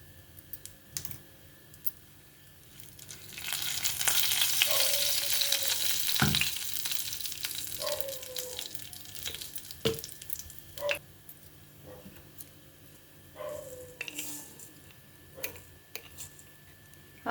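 Urad dal and mustard seeds frying in hot oil in a kadai for tempering give a soft, continuous sizzle that swells in the middle, with scattered clicks and taps of a spoon around it.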